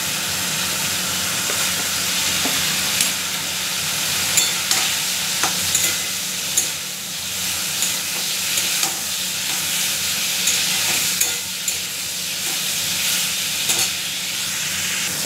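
Fish curry with turmeric and potato fries and is stirred in a pan, a loud, close, continuous sizzle and hiss with repeated scraping clicks of the spatula throughout.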